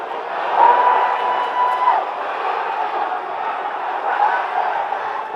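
Boxing crowd at the Corps of Royal Engineers championships roaring and cheering steadily on their feet, a dense sustained wall of voices with a whistle-like tone rising briefly above it.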